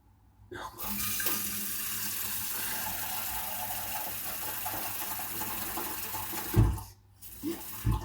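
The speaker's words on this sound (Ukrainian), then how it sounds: "зараз воду наберу" Tap water runs steadily into a pot for several seconds, a continuous rushing flow that stops briefly near the end with a few knocks.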